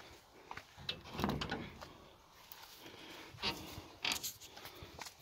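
A solid greenhouse end door with rubber seals along its edges is opened, giving a few soft knocks and scraping creaks over low room noise, with no talking.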